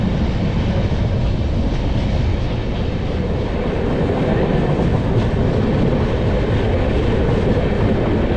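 Pratap Express on an Indian Railway line between Kolkata and Bikaner Junction, a steady loud rumble of the moving train with faint rhythmic wheel clatter running throughout, no voices.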